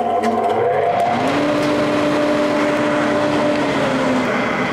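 Holzmann ABS1500FF chip extractor, a 750-watt workshop dust collector, running steadily at close range with a continuous whooshing hum and tonal whine, no talk over it.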